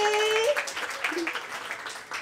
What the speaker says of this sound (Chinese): 掌声热烈欢